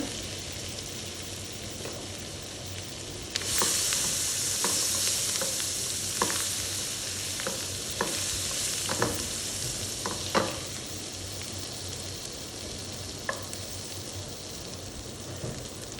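Garlic and ginger hit hot oil for butter chicken, and a bright, close hiss bursts up and holds steady under occasional spatula clicks and scrapes. The pan's quieter bubbling is audible before the sizzle begins.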